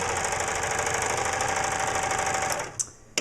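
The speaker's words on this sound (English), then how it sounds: "Here it's trimming off the fuzzy frayed part of this pink satin, which tends to ravel quite a bit." Serger stitching and trimming the frayed edge of pink satin, a fast steady mechanical whir with rapid needle chatter that runs for over two seconds, then stops with a couple of clicks.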